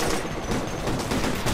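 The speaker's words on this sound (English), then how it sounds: "We're under fire!" Dense, continuous gunfire from a battle in the military shooter game Operation Flashpoint: Red River, with loud overlapping shots and bursts filling the whole moment without a break.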